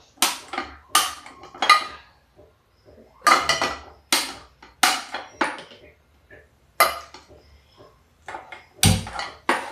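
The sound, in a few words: frying pan set on gas stove and burner lit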